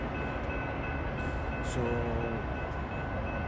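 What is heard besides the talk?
express train passing a metro station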